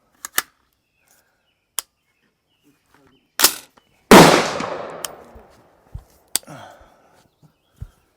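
A single loud gunshot at a target echoes and decays during optic-mount testing, surrounded by scattered sharp clicks and handling knocks.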